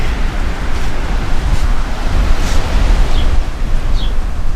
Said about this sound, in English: is it a windy day